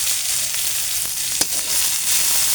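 Chickpeas frying in oil in a pan, a loud and steady hissing sizzle throughout, broken by one sharp tap of a utensil near the middle, with no voices.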